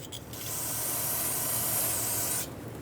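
A steady, close hiss of brake parts cleaner sprayed onto a front brake caliper of a 2006-2011 Honda Civic, holding for about two seconds before cutting off.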